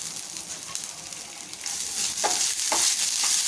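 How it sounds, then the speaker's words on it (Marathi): Chopped green chillies sauté in hot oil, giving a continuous frying hiss that grows louder partway through, with a few soft stirring scrapes near the end, close and without talk. "परतवूया तेलामध्ये।"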